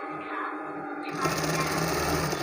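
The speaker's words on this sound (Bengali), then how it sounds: "এই যে আমি চাপ সেলাই দিয়ে দিচ্ছি।" A sewing machine top-stitches a shirt seam, its needle rattling in a steady fast whir that grows louder and fuller partway through, with no talking.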